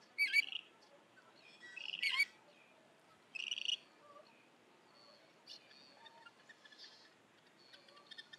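Western grebes calling from water, heard as a few shrill, high, trilling cries in short bursts, then fainter calls trailing off over a quiet background.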